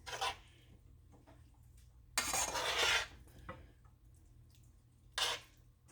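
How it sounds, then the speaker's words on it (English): Sauteed vegetables are spooned into vegan dinner bowls, with a few short clattery bursts of utensils against dishes separated by quiet pauses. "So in with the sauteed vegetables."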